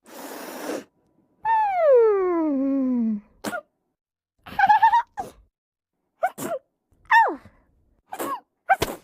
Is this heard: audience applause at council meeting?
no